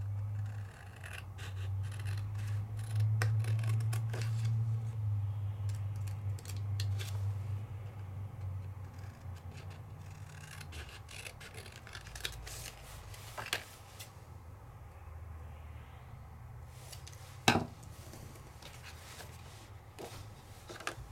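Scissors snip around a stamped paper card in a card-making craft session, with scattered faint cuts and rustles, a low hum early on and one louder snap near the end, all fairly quiet.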